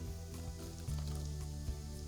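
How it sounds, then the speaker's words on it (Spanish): Chopped garlic sizzles steadily in oil mixed with lamb kidney fat, a continuous close fizzing and bubbling crackle with a low steady hum underneath. "El ajo picado burbujea bastante porque no lo estamos friendo en aceite, lo estamos friendo en aceite con grasa del riñón del ternasquito."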